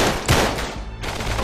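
Loud, dense machine gun fire in the Uncharted 3 video game, with rapid overlapping bursts, a brief dip in the middle, then continuous shooting up close.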